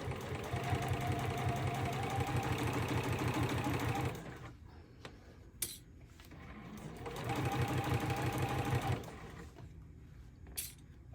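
A sewing machine stitches a zipper into a fabric pouch, running in a steady fast mechanical chatter for about four seconds, pausing with a few clicks, then running again in a second burst before stopping.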